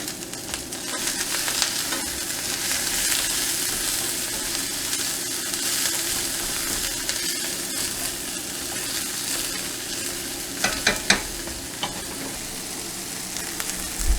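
Chunky onions frying in a pan on a home stove, a dense continuous sizzle with soft crackles and a few stirring knocks toward the end, close and fairly loud.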